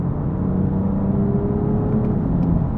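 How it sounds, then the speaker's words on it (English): A BMW M4 engine gives a steady, loud, low rumbling drone with a slight whir, heard alone without talk. "When the M4 first came out, everyone complained about the noise."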